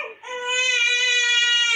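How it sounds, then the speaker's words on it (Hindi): Infant crying in one sustained, high, tonal wail that starts after a short catch of breath, loud and close, with no other voices. "ये मेरा बच्चा रो रहा है"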